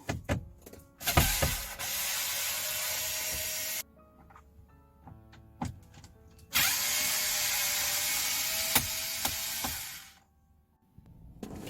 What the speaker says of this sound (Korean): 여기 나사가 있는데 이걸 빼요